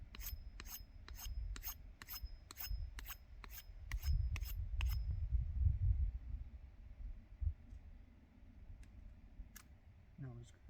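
Rasping strokes of a file or knife smoothing a wooden hand drill spindle outdoors in the Mojave desert, a quick run of sharp regular scrapes that then give way to quieter intermittent rubbing over low background rumble.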